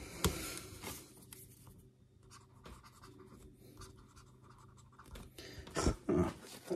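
A stylus writes on the screen of a Mobiscribe e-reader, giving soft, close scratchy strokes in short bursts with quiet pauses between them.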